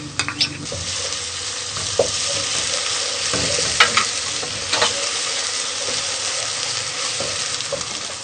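Steady sizzling of garlic-ginger paste frying in a pan with occasional scrapes and stirs of a spoon, continuous and close, while cooking sarson ka saag.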